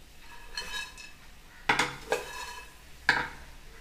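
A utensil scrapes and clinks against a pan while popcorn is stirred, producing a few sharp metallic taps and scraping strokes over a faint background hiss, fairly quiet and close.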